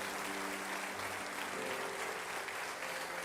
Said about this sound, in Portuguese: aplaudam bem forte ao Senhor nessa noite